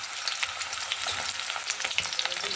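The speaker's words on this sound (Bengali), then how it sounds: "আলুটাকে একটু লাল লাল করে ভাজবো" Potatoes frying in heated oil with whole garam masala in a kadai, a dense continuous crackling sizzle with faint stirring taps, close and steady throughout.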